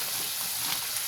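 Ground tomato paste is poured into hot oil for a Kerala fish curry, giving a steady, close hiss of sizzling that holds without pause for about a second.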